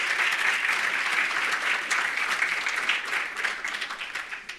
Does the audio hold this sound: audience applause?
yes